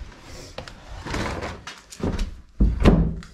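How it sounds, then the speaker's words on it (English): The back door of an old stone homestead house being renovated in Ireland opens and closes with creaks, scrapes and wooden thunks, ending in a heavier knock as it shuts. The sound is close and there is no speech. "Back door."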